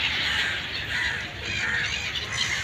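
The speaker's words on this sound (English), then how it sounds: "Nagpapakain ng ibon." Birds being fed at Al Seef creek in Dubai call and caw in a dense flock, a continuous bright chatter with outdoor wash and no clear talk.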